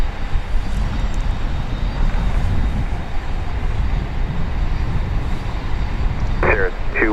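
A Southwest Boeing 737-700 arriving at Dallas Love Field from San Antonio, a steady broadband jet engine roar, loud and continuous, with a short burst of radio chatter near the end.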